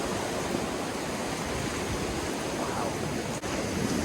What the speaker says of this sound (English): these waves are now coming up to hit me